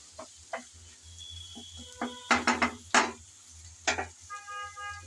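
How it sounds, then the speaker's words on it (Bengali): A spoon scraping and clinking in a pan of eggplant pickle mixture on a stove, several irregular close knocks and scrapes over a faint low hum. "আবারও এসে একটু নেড়েচেড়ে মিশিয়ে নিচ্ছি, না হলে নিচে লেগে যাওয়ার সম্ভাবনা থাকতে পারে।"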